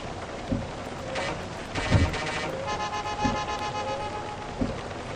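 A County limousine minibus horn in Minibus Simulator Vietnam honks in rapid bursts during a heavy rainstorm, with rain hissing steadily and thumping impacts recurring underneath.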